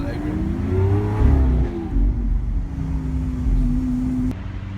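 A Lamborghini Aventador SV drives through a tunnel, its engine giving a steady low roar with rising and falling pitch as it revs, loud and close, with voices talking over it.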